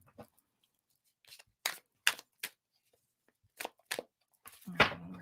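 Tarot cards are shuffled in short, crisp bursts of riffling and flicking, several separate quiet slaps spaced apart, close by in an otherwise still room.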